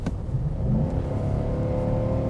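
A 2016 Nissan Titan XD pickup with a gas V8 accelerates hard, its deep engine drone climbing steadily in pitch and staying loud and close throughout.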